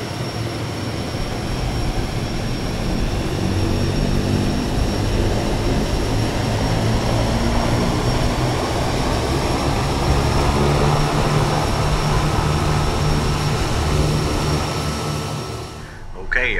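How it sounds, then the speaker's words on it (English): A Kodiak 100 turboprop engine runs steadily in Microsoft Flight Simulator 2020, a loud, continuous droning roar with a slowly rising whine that cuts off abruptly near the end. "our engine is blasting right now"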